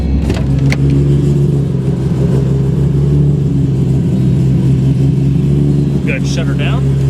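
A 1997 Nissan Skyline GT-R V-Spec R33 with a turbocharged engine runs close by, a loud, steady rumbling idle that holds even throughout, with a voice briefly audible near the end.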